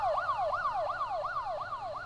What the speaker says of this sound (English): an NEPD car speeds through an intersection. Its siren echoes as it goes past.